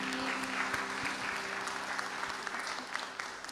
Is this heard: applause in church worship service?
yes